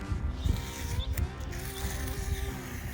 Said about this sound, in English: I'm just gonna come over here and start pulling this tape off